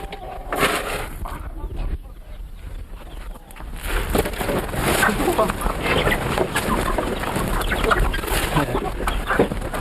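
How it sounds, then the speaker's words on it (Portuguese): Chickens cluck and squabble while competing for corn grains, a busy, fairly loud farmyard flock chattering continuously. A faint voice may sit beneath the birds. "As galinhas competindo entre si pelos grãos de milho são um exemplo de competição da mesma espécie."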